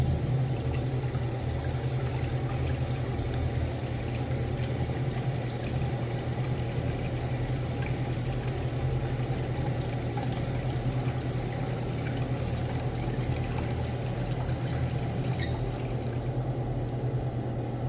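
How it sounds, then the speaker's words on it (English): A 1930s-1950s Standard Washal urinal with rim jets flushes, producing a steady, loud rushing and gurgling of water that holds throughout before tapering slightly near the end. "Let's have a look at a flush."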